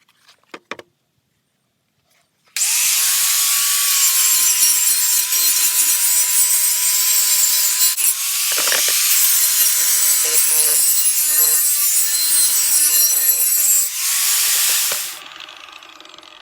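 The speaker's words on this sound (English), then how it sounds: "Okay, we've got the 4-inch angle grinder." A 4-inch angle grinder smooths the edge of a steel wheel for an engine cart, running as a loud, continuous abrasive whine and hiss for about twelve seconds with slight pitch dips under load, then cutting off.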